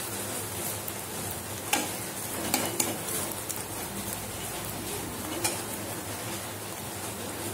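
An omelette frying in a pan gives a continuous, even sizzle. A few faint clinks and scrapes sit over a steady hiss, with no voices.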